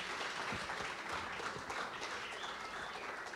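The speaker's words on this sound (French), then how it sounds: "acclamer Jésus plus fort" A church congregation at an Afro gospel service applauding, a dense, steady wash of many hands clapping together in a large room without a break.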